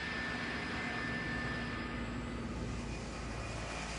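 Steady, distant jet engine drone from an American Airlines airliner, flight 587, preparing to take off, a constant faint roar with no talk.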